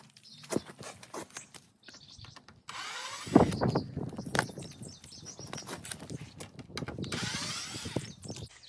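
A power drill drives short one-inch screws through fender washers into a tarp on a chicken tractor, with several brief whirring bursts close by between small knocks and handling sounds.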